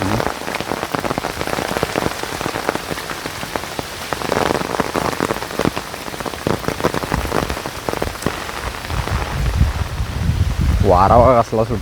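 Rain falls steadily outdoors in Konkan, a close, constant patter of drops with occasional sharper hits and a touch of wind, and a brief voice-like tonal sound rising near the end.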